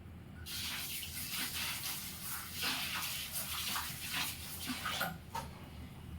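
Dyed biuli dal lentils being washed in water, a steady splashing and swishing wash of water that runs nearly the whole clip with a few brighter splashes, close and alone.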